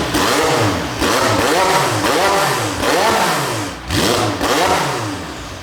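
A modified McLaren 720S revs hard in a confined space, loud and close, its pitch rising and falling in a rhythmic series of about six throttle blips, with a brief dip before the last two.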